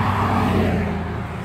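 Car traffic passes on a bridge, a single loud vehicle rushing by close up with a smooth broadband whoosh that fades slightly as it moves away.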